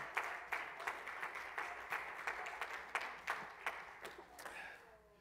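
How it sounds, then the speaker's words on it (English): A church congregation claps hands during a Sunday morning service, steady and fairly even in rhythm, with distinct beats running throughout at a moderate, somewhat distant level. "let's clap our hands and praise him again this morning."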